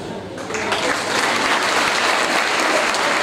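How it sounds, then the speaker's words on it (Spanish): Dinner audience at an Italian cultural centre's 61st anniversary celebration applauding performers, a loud, sustained wash of clapping filling the hall without pause. "el aplauso fuerte para estos artistas"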